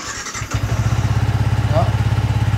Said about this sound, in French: Je vais te la démarrer.